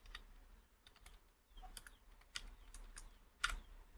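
Sparse keyboard shortcut presses on a computer keyboard during an MS Paint tutorial, a handful of quiet, close key clicks spaced irregularly with a slightly louder tap near the end, no talking.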